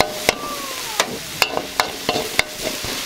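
Turmeric rice sizzles in a hot pan for a Thai plant-based dish, with steady frying hiss broken by several sharp scrapes and clacks of a utensil stirring, close and fairly loud.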